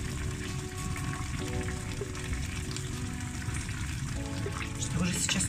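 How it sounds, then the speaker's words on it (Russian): A pot of water boils vigorously on a stove while steamed dumplings are being made, giving a steady bubbling and hissing bed of sound throughout, with faint clinks. "что уже сейчас очень активно кипит вода"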